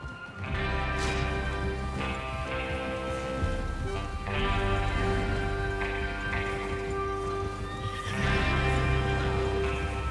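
Continuous layered Red Dead Redemption 2 game soundscape with horse whinnies and snorts rising above a steady droning background and occasional hoof clatter.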